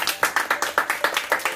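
A small family gathering gives a short round of applause, with about a dozen steady, fairly close handclaps in quick rhythm.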